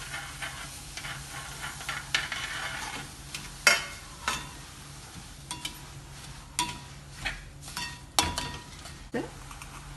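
A spoon scrapes and stirs roasted sesame seeds through a hot pan while making sesame balls, giving a steady soft hiss punctuated by several sharp scraping knocks against the pan.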